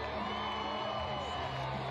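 A crowd at a PBR bull riding event in Maitland cheers and whoops in a steady, far-off roar under an announcer's voice.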